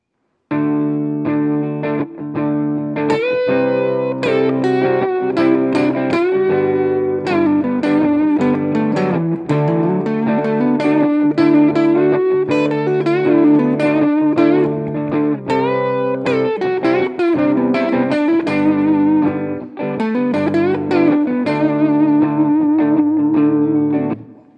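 Electric guitar with distortion and effects plays southern rock major pentatonic licks with string bends, a continuous loud run of bent notes and phrases alone with no talking.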